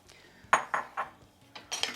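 Chopped onions, jalapeno and garlic tossed into a hot pot for poblano chicken posole, heard as four or five short clanks and scrapes of a utensil against the pot.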